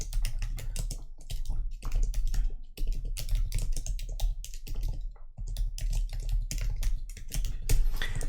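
Steady typing on a computer keyboard, close and clear, with dense rapid key clicks running almost without pause across the whole stretch and only brief gaps between bursts.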